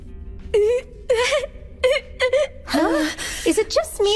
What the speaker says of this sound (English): Is it just me, or does it sound like someone is crying?